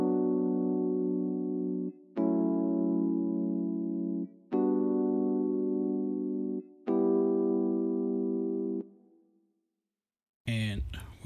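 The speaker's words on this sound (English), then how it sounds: "And the electric piano on its own sounds like this." Electric piano for a modern emotional Afrobeats track, playing four long sustained chords with clean attacks and gaps between them, alone and fairly loud, followed by a brief burst of another sound at the end.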